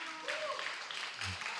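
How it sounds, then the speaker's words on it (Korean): Congregation clapping at a Sunday church gathering, faint, thin and steady throughout, with a voice briefly audible over it. "박수."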